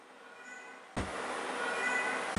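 A cat cries with a drawn-out, wavering meow that rises suddenly from quiet background hiss and holds for over a second.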